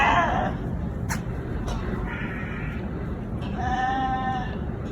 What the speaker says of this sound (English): Sheep ran amok in this facility's courtyard.